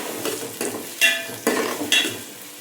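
Onions fry in a pan with salt added, giving a steady sizzle broken by several sharp scrapes and clinks of a spoon stirring against the metal, close and moderately loud with no talking.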